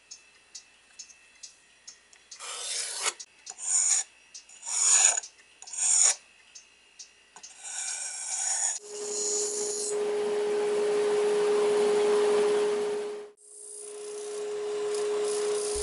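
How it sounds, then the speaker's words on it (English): Plywood being sanded up to a marked line: short rasping strokes in uneven bursts, followed by a long continuous sanding run with a steady tone, then a brief pause and a resumed stretch, close and fairly quiet. "I find it a lot easier to sand up to the line rather than try and use the bandsaw"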